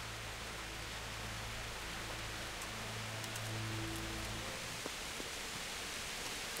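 Rain falling in the video game Kingdom Come: Deliverance, a faint, steady hiss of rainfall with soft low hum underneath and no talking.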